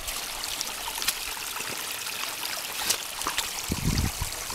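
Water leaks between the stone courses of a check dam in an arroyo, a soft, steady trickle and dribble outdoors with a few faint splashes near the end.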